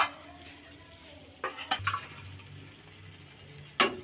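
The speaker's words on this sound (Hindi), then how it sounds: "थोड़ा थोड़ा करके मटन मिक्स करती रहती हूँ इसके अंदर" Mutton being stirred on a flat tawa pan, a few scraping and clinking strokes of a spoon against metal over a faint low sizzle, with a sharper clatter near the end.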